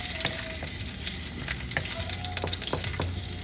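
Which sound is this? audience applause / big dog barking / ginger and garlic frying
ginger and garlic frying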